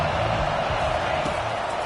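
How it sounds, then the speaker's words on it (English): Stadium crowd noise from the College Football 25 video game swells on a 3rd down as fans rally behind the defense, a steady distant roar of many voices with a low rumble underneath. "Decibels rising as the crowd gets behind this defense on 3rd down"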